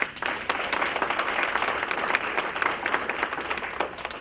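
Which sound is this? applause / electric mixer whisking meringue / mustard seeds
applause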